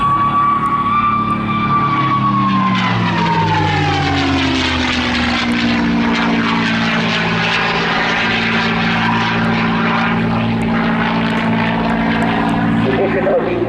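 A P-51D Mustang 'War Horse' with a Merlin engine flies past at the Southport Airshow 2024, its steady propeller drone shifting in pitch as it passes under a commentator's voice.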